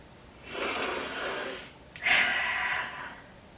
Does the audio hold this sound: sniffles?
yes